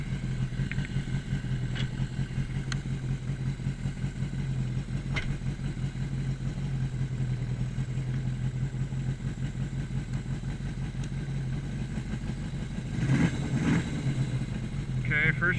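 A Yamaha XS1100 cafe racer, running on Speeduino engine management, idles with a steady low, lumpy rumble near a garage, with a brief revving burst near the end as the motorcycle prepares to ride off.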